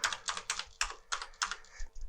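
Typing on a German-layout Amiga 500 keyboard, a quick burst of close, crisp key clacks in an uneven rhythm of about eight or nine presses over two seconds, with no talking.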